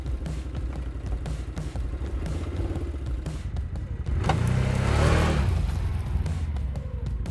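A CF-Moto Cforce 1000 Mud Version ATV engine on its standard exhaust rumbles steadily with a deep throb, then swells louder and fuller midway as it revs, close and continuous.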